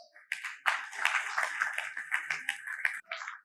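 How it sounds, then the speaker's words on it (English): Audience applause at an urban transport and infrastructure summit, a burst of clapping starting after a brief pause and continuing densely for about three seconds before tapering. "A round of applause."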